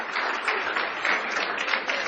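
Steady, dense applause from a class audience fills the whole stretch, an even wash of many hands clapping at fairly close range with no talking over it.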